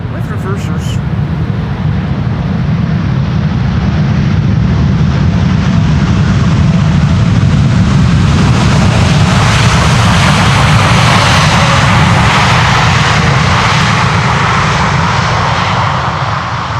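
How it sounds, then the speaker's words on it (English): Air Canada airliner landing at Schiphol's Polderbaan runway with thrust reversers deployed, a loud sustained jet roar that swells and broadens as the reversers open, with someone talking over it. "Air Canada Flight 808 landing here with reversers."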